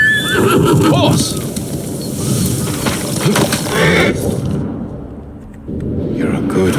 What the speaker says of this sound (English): You're a good horse,